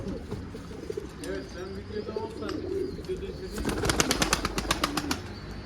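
Pigeons coo softly and steadily at close range, then a burst of rapid wing flapping breaks out near the end, with voices murmuring faintly in the background.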